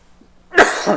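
A preacher delivering a Sunday morning church sermon gives a single sharp cough near the end of an otherwise quiet moment, close and clear.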